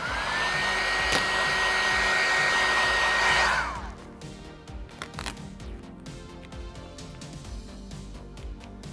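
A heat gun warms vinyl wrap film on a Tesla Cybertruck, blowing with a loud, steady whoosh for about three and a half seconds before it cuts off and quieter handling noises follow.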